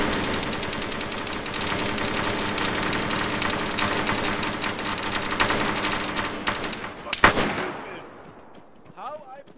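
Machine-gun fire in a multiplayer video game rattles as dense, rapid bursts that run almost continuously, then stop abruptly near the end. The firing is loud and sits amid the game's other sounds.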